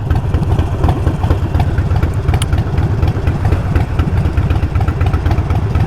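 A Harley-Davidson Nightster 1200 motorcycle with a big exhaust pipe idles loudly and close, a steady, dense low rumble that runs throughout with no talking.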